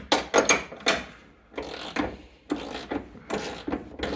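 A ratchet loosens a bolt on a third-generation Camaro subframe in a series of short, quiet clicking bursts separated by brief pauses.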